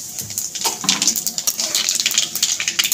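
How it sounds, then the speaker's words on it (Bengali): Black cumin seeds dropped into hot oil for a Bengali-style tilapia curry crackle and sizzle steadily, a dense bright spitting that holds for the whole stretch with no talking. "তেলটা গরম হয়ে গেছে। ফোড়নে দিয়ে দেবো কালো জিরে।"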